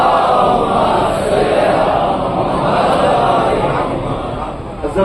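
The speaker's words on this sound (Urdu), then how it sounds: "بلند نعرے سلوات." A large crowd loudly chants salawat in unison at a Muharram majlis in the Karbala imambara in Bhopal, a dense, continuous roar of many voices that holds steady throughout.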